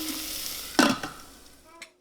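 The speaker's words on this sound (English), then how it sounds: "we will finish sauteing it" Sabudana kichidi with peanuts and cumin sizzles as it is stirred and sautéed in an Instant Pot, a steady close frying hiss broken by a louder scrape of the spoon.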